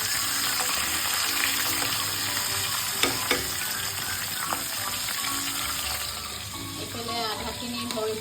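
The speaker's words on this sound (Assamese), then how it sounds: "এইফালে মাছ ফ্ৰাই কৰি আছোঁ" Fish frying in a pan in a home kitchen, giving a steady crackling sizzle with a few sharp pops and clinks of utensils, faint voices in the background.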